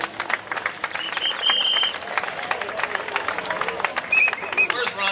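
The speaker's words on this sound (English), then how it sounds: "a big round of applause for Steve Barr" Outdoor audience applauding a speaker at a Bastille Day event, a steady crackle of many hands clapping with a few cheers and a voice talking over it.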